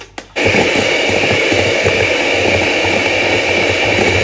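An electric mixer whips cream for a banoffee pie, starting with a couple of brief knocks and then settling into a loud, steady whirring drone that runs to the end.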